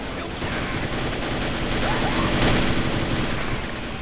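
Gunfire in the Sven-Coop game: a dense, continuous rattle of rapid shots and blasts, loud and steady throughout.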